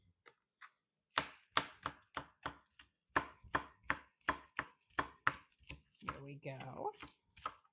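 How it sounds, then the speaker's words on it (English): A knife minces a green onion on a cutting board in a quick run of about a dozen sharp, evenly spaced chops, ending with a brief scrape, while someone speaks briefly. "We're going to mince these up."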